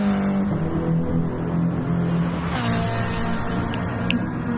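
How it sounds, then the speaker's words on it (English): Ferrari 458 race car in a racing video game, its exhaust droning steadily and loud down a back straight, a continuous engine tone without talk. "we just see that extremely loud exhaust note going down their back straight"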